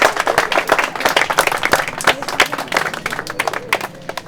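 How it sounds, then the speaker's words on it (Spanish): Audience applause for girls who prepared a dance performance, a dense steady patter of many hands clapping at an outdoor community event, with faint voices mixed in. "un aplauso para las chicas que se prepararon para bailar"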